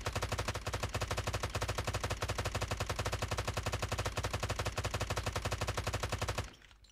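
Rapid, sustained automatic fire from a Holger 26 converted into an SMG in a shooter video game, a fast even stream of shots for about six seconds before cutting off abruptly, with no talking.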